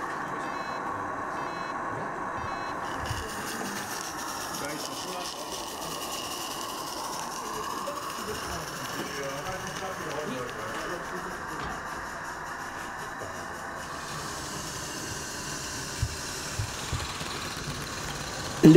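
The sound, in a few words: model live-steam locomotive, water in cylinders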